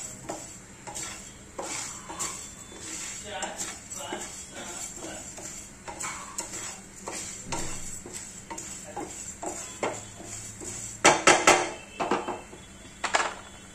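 Long rice grains dry-roasting in a pan for rice kheer, a steady stream of light scraping and clinking stir strokes with faint rustle, growing louder near the end with sharper metallic knocks.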